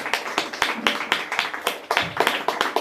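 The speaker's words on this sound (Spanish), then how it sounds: "Palmas para Cristo" Church congregation clapping hands together, a rapid rhythmic patter of many claps in quick, slightly uneven beats, close and moderately loud with no voices.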